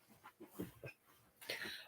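Kaya, a large dog being dog-sat indoors, gives a few soft, short whimpers and breathy whines spaced through the moment, ending in a louder rustling burst close by.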